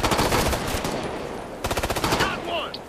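Automatic gunfire in the tactical shooter Ghost Recon, two loud close bursts of rapid rattling shots separated by a brief lull, with a faint voice under the tail.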